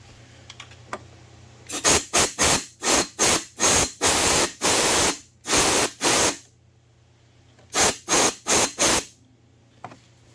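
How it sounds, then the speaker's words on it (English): Short bursts of compressed air hiss into the spark plug hole of a Honda Elite 110 NHX110 scooter, coming as a run of about eight quick blasts, a longer pair, then four more, loud and close with no talk. "Just blow it out with some compressed air."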